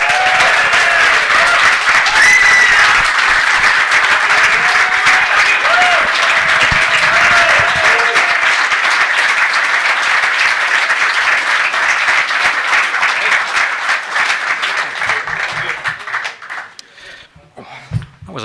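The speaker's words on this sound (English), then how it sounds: "Please give a huge round of applause to Nolberto Solano." Loud, sustained applause from an audience at an evening conversation event welcoming former Newcastle footballer Nolberto Solano, with a few voices and cheers mixed in, holding steady before tapering off near the end.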